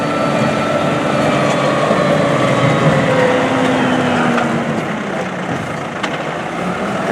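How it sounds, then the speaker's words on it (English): A dump truck engine rumbling as it turns around on a gravel haul road near a diamond mine, a loud, steady diesel drone with a slowly shifting pitch, no voices. "I'll pull the front of the dump truck in here"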